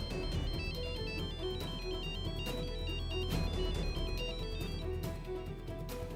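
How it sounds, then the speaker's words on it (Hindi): A telephone rings repeatedly in a Hindi TV drama scene, its electronic ringtone pattern steady and fairly loud over continuous background music, with no talking. "फोन उठा प्लीज बेटा।"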